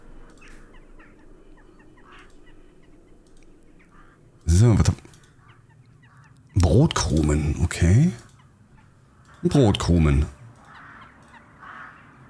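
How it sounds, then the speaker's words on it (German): Loud, close cawing birds from the horror game Darkness Under My Bed burst out in three harsh squawking bursts, with a voice talking quietly over a hushed ambient hiss between them. "Und Vögel jetzt."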